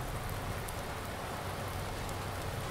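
Steady rain in the farming game Farming Simulator 19, a dense even hiss of falling drops with low rumble, constant and unbroken throughout.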